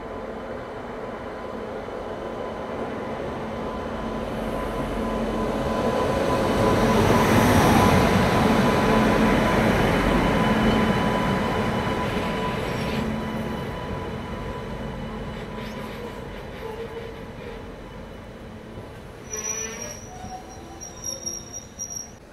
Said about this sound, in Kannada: ಕ್ರಾಸಿಂಗ್ಗೆ ಬರ್ತಿದೆ ತಾಳಗುಪ್ಪದಿಂದ KSR ಬೆಂಗಳೂರಿಗೆ ಹೋಗುವ ಇಂಟರ್ಸಿಟಿ ಸೂಪರ್ ಫಾಸ್ಟ್ ಎಕ್ಸ್ಪ್ರೆಸ್